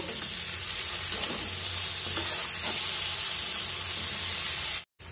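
Salted mustard paste sautéed in a pan for a Bengali vegetarian chorchori: a dense, continuous close sizzle with faint stirring scrapes, briefly dropping out near the end, no talking.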